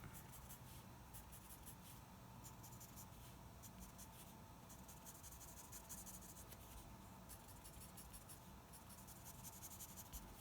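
Soft graphite rasping as a pencil shades on paper, with close, steady back-and-forth strokes that come in clustered bursts for about ten seconds with no talk.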